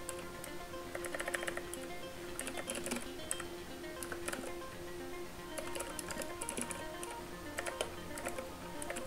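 Keys on a computer keyboard are typed at a desk in quick irregular bursts and single taps, close and fairly quiet, with short pauses between runs.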